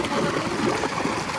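A household water motor pump runs with water gushing and splashing, making a loud, steady rushing noise throughout.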